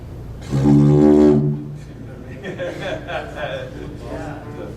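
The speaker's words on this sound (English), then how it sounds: "You make wonderful didgeridoos." A didgeridoo made from golf tubes gives a brief loud, buzzing drone lasting about a second, followed by a person talking.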